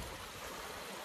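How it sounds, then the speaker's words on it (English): Fast-flowing stream water in a clear canyon creek rushes steadily and close, a dense broadband wash with no talk over it. "It's fast water."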